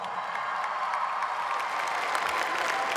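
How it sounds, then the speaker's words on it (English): Graduating high school class of 2016 applauding at their commencement ceremony, a dense, steady wash of crowd clapping sustained throughout, with faint cheering mixed in. "Give yourself a round of applause."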